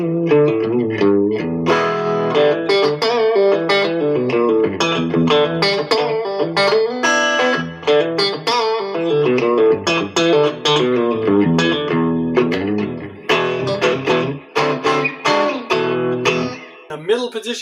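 A Fender American Pro II electric guitar played through its neck pickup, a warm strummed and picked passage of chords and single notes running continuously, up close with no talking.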